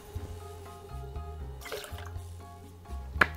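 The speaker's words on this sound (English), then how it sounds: "1 ounce of coconut rum. In this case, we're using Malibu coconut rum." Malibu coconut rum poured into a tiki cocktail, a brief soft liquid splash heard under steady background music with faint clinks.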